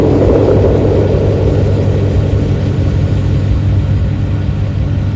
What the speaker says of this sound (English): The powerful all-aluminum alloy engine in the Lexus ES is so incredibly quiet.